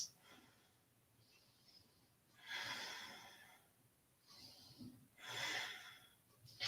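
Deep breaths during a yoga pose come in slow, audible waves, each drawn-out inhale and exhale rising and falling close by in an otherwise quiet room.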